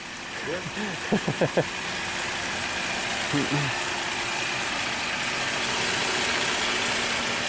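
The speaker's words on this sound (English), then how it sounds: "but hey, the car runs." A Saturn car with a crank no-start fault and an inactive purge solenoid idles steadily at close range, a continuous low engine hum with brief speech sounds near the start.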